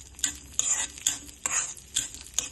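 Cashews and raisins fry lightly in a pan while a spoon stirs them. A soft sizzle sits under repeated scraping and clinking strokes against the metal, close and moderately loud, with no voices.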